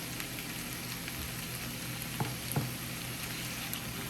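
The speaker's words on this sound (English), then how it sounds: "it's sauteing nice. Things are getting translucent and tender." Vegetables sauteing in a pan for a jerk cream chicken and shrimp pasta, a steady, close, even sizzle and crackle throughout with a couple of brief stirring scrapes.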